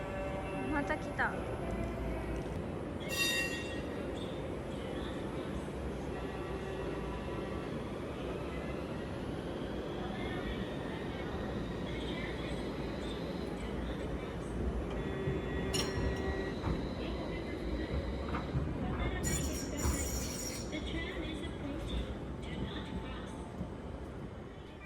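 Toyama streetcars coming and going at night, a continuous low rumble of passing trams with occasional squeals and clanks, while people talk throughout.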